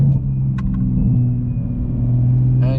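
A Toyota Supra engine fitted with an upgraded T51R turbo housing holds a loud, steady low drone and rumble from close by. A brief whoosh comes near the end.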